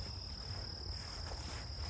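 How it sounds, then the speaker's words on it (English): Cicadas drone outdoors in a steady, continuous high-pitched buzz, faint and unbroken, with no one talking over it. "You hear those cicadas?"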